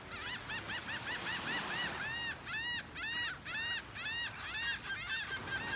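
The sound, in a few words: flock of seagulls flying over beach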